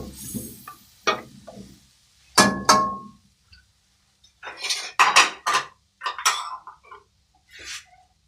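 Whisked yogurt is stirred into meat in a pot, making a series of distinct metal clanks and scrapes from a spoon against the pot in irregular bursts separated by near silence.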